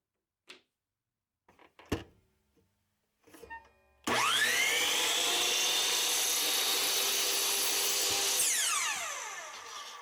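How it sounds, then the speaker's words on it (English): A miter saw trims a small amount off thin wood strips in a small workbench-building shop: a few faint handling knocks, then the saw spins up loud and whines steadily for several seconds before winding down. "trimming a very small amount off on the miter saw"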